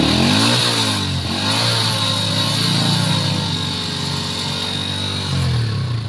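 A Pinoy 125 motorcycle engine idles and revs steadily to recharge a low battery, close and loud, with a rising then falling pitch early on and a constant mechanical hum throughout.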